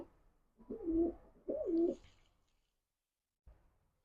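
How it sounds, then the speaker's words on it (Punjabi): A pigeon of a large racing or high-flying breed, one recently sick, gives two clear rolling coos in a row, close and fairly loud, followed by a short faint sound. "ਆ ਬੈਠਾ ਬਈ ਟੂਸੇ ਵਾਲਾ ਕਬੂਤਰ"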